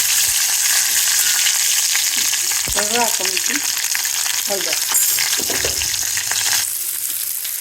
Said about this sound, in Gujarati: રાઈ તતડી ગઈ છે પછી આપણે આ લીલો લીમડો અને મરચું એડ કરી